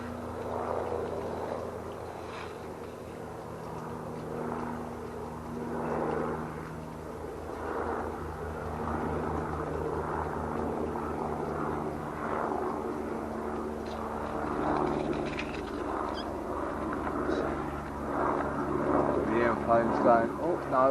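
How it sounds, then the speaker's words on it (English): Helicopters and an airplane fly overhead outdoors on a summer day, a steady droning rumble that swells and fades over about twenty seconds under other background sound. "helicopters are out."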